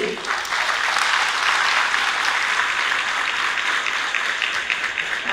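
A hall audience claps steadily through a farewell function, the dense, continuous applause holding at an even level from start to finish, with a faint murmur of voices underneath.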